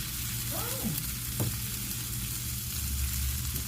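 Sausage and potatoes fry together in a pan with a steady, dense sizzle that stays close and even throughout. A few faint scraping stirs sound underneath, and no one speaks.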